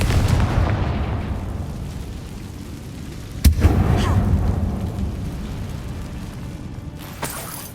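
A Confringo fire spell bursts in the game Hogwarts Legacy inside a closed mine tomb, a sharp blast with a rumbling tail, followed by a fainter second pop, over steady background game ambience.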